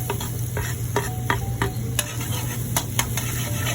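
Saba bananas frying in oil in a pan, a constant bright sizzle with occasional sharp taps and scrapes of a utensil against the pan, close up and with no voices.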